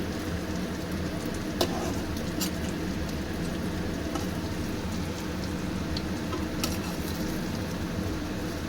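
Dhoka, lentil cakes for dhokar dalna, fry in hot oil with a soft, steady sizzle and scattered sharp pops and crackles, close and fairly quiet with no talking.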